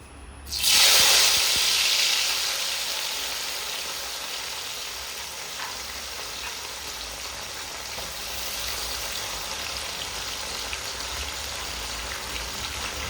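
Sweet potato pieces drop into hot oil with a loud burst of sizzling that settles into a steady, close frying hiss with no talking.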